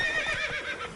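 Roach, the horse in the video game The Witcher 3, gives a short, clear whinny lasting about a second, with no voices over it.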